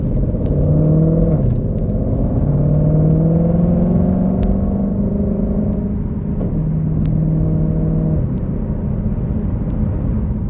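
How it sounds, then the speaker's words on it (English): A 2020 Shelby GT500 rumbles through its exhaust with a faint supercharger whine, the deep engine note rising and falling over several revs, loud and close without any talk. "This car, you hear just a little sound from the supercharger, but the rest is exhaust."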